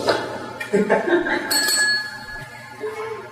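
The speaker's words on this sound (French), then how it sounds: "Cloche d'approbation." A bright bell, rung as approval at a cabaret show, rings out a few times over a busy background of voices, its clear tone lingering briefly.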